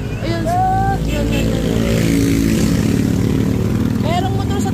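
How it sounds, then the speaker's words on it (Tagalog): A motorcycle engine drones loudly and continuously close by on a rural road, mixed with vehicle rumble, while voices briefly call out at the start and end. "Merong motor sa tabi."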